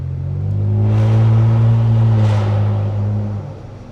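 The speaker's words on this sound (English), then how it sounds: "it also does a squealing or squeaking sound while I'm driving" Rear brakes on a Ford Taurus Limited squeal and grind while driving, a steady tonal whine riding over the engine hum that swells and fades across a few seconds with no talking.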